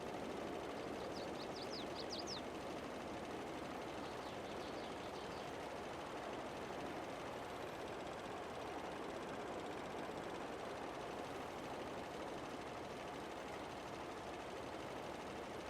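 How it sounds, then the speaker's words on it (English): A push tractor rolls along in Farming Simulator 22, its engine a steady, broadband drone that holds constant throughout with no gaps, joined by a few faint high chirps early on. "even though this is a push tractor, we're actually going pretty fast"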